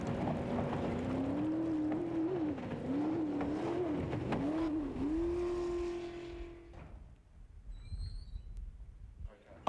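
A racing jet boat with an older-model Eagle hull screams at top speed, its engine tone steady and wavering with loud roaring wash, then dropping away and fading over the last few seconds.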